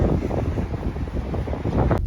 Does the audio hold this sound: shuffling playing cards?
no